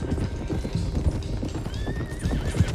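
Horse hooves clip-clopping with a loud whinny from a loose stallion in Red Dead Redemption 2, close and clear, mixed with game background sound.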